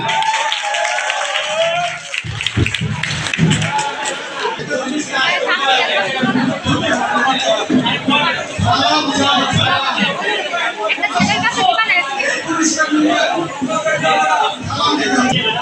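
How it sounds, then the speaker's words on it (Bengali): A crowd at a polytechnic institute's annual sports event claps loudly for the electrical technology team, with sustained chatter and shouting mixed throughout. "ইলেকট্রিক্যাল টেকনোলজির জন্য জোরে হাততালি।"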